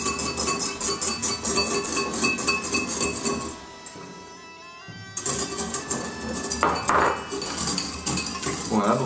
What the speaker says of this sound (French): j'ai bien mélangé dans la sauce tiède